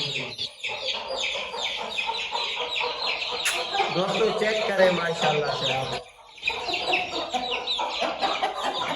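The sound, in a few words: chickens clucking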